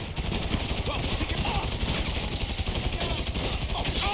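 Rapid automatic gunfire from a video game right after a weapon switch, a dense continuous rattle of shots lasting the whole stretch at steady loudness, with no voices over it.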